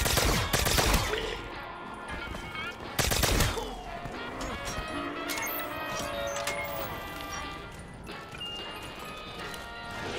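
Gunfire from a newly acquired gun in Call of Duty Black Ops 3 Zombies: two loud bursts of shots near the start and around three seconds, then quieter in-game noise with a voice speaking.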